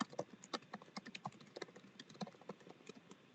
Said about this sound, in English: I was typing a message about that.